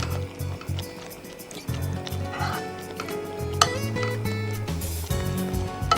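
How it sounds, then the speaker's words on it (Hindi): Cooked chicken pieces drop into tomato puree with wet, squelching plops and scraping spoon sounds, fairly close and busy, with no talk. "तो ये चिकन के पीसेस इसमें डाल देते हैं।"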